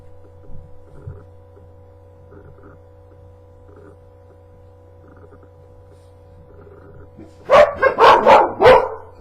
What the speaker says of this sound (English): There went the dog.